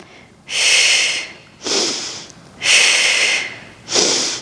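Four strong breaths drawn in and pushed out through the nose during a Pilates reformer magic circle exercise, each a loud, close, airy rush lasting about a second, evenly spaced with short quiet gaps between them.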